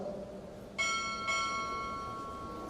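A ship's bell rings twice in quick succession at a Navy chief petty officer pinning ceremony, two bright metallic strikes whose tones linger and slowly fade in a quiet hall.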